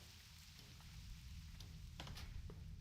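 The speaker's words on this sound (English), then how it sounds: "let's listen to the rain" Rain falling in the World of Warcraft video game, a faint, even patter of steady rainfall with a few brighter drop ticks, continuing without voices.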